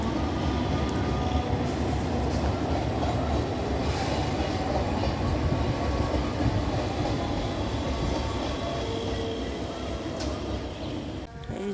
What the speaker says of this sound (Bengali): কত বড় ট্রেন